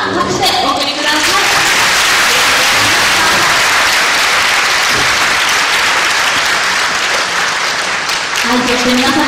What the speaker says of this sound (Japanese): 拍手でお送りください。